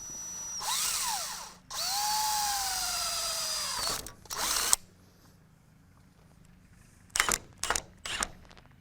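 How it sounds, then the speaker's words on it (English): A power drill whirs through two long bursts drilling pilot holes, its pitch spinning up and settling, then falls silent before several short sharp bursts of trigger pulls near the end. "I can now set up and drill the remaining holes"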